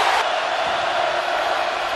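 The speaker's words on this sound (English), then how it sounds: "Crowd loud on third and 12." A loud college football stadium crowd roars on third down at the Florida Gators versus Miami Hurricanes kickoff game, a dense sustained wash of noise that stays steady and heavy throughout.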